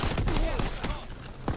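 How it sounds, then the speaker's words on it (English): Machine pistol gunfire in Call of Duty: WW2, rapid bursts of shots crackling through busy game audio, with voices talking over the action. "This machine pistol is nuts."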